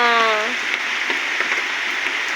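Steady hiss of rain falling, preceded by a brief rising tonal sound at the very start.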